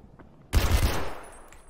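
A fully modded AK rifle in the VR shooter Ghosts of Tabor fires a short burst of rapid shots that ring out and decay over a quiet background.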